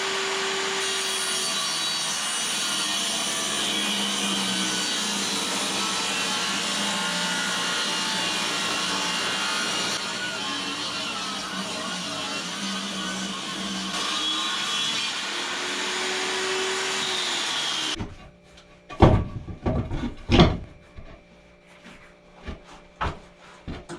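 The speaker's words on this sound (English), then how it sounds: "Just gonna run it through our table saw, take a 1/4 inch or a little more off of it." A table saw rips a quarter inch or more off a board, making a loud, steady whine and rasp for about eighteen seconds before cutting off abruptly, followed by a few sharp knocks and clatters.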